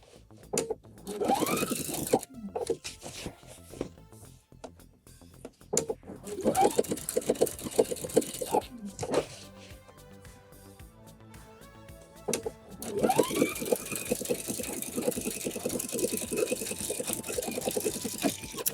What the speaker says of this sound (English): we're going to be sewing this up with a 1/2 inch seam allowance